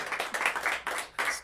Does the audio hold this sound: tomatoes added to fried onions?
no